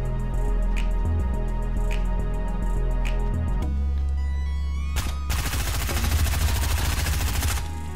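Fortnite gunfire: a steady run of evenly spaced single shots over a constant in-game background, then a sharp crack and a loud, rapid automatic burst that carries through to the end, close and dominant.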